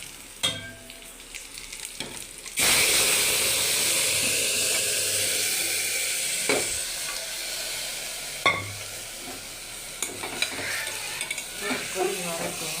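Green gram curry cooks in a pan, with a few clinks and scrapes of a ladle before a sudden loud hissing sizzle bursts in and then settles into a steady bubbling fry, broken by occasional stirring knocks.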